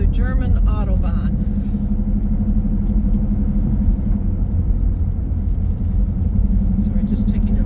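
1988 Mercedes-Benz 560SL on a short drive, a steady low engine and road rumble heard from inside the car, with a voice speaking briefly at the start.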